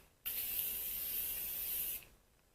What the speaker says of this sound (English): So that's the Morphe setting spray. Really light mist.